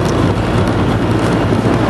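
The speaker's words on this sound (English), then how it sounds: "We got pretty good wind today" Strong wind blowing across an open Texas ranch, a loud, steady roar buffeting the microphone with no pauses.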